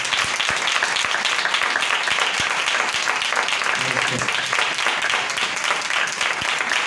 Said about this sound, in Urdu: آئے زوردار تالی بجانا خدا کے کلام کے لیے۔